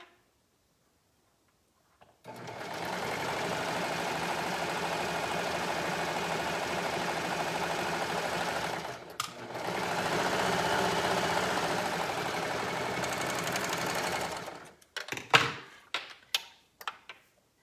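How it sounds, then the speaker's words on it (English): A sewing machine runs steadily for about six seconds, pauses briefly, then stitches on for another five as it sews down a pocket side seam through layers of fabric, ending in a few sharp clicks and knocks. "And then just sewing the rest of the way down."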